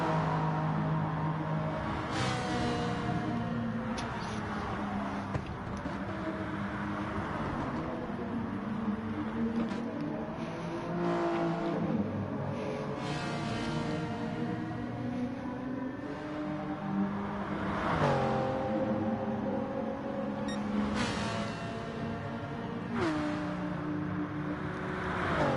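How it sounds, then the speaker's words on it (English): Several racing cars, a Toyota Supra among them, in a sim racing endurance event at Dragon Trail, their engines droning steadily and loud throughout with rising and falling pitch as cars shift and pass. "Great awareness from Confi, letting that quick Supra through and not fighting it."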